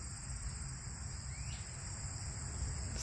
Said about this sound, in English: the sound of a cricket when they rub their wings together is like using a comb